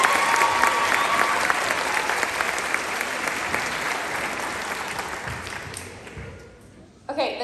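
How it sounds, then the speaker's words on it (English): Audience applause at a middle school spring band concert for sixth-grade band members, a sustained dense round of clapping from a large crowd that gradually fades, with voices rising as it dies down. "And one more round of applause for all of our outstanding members."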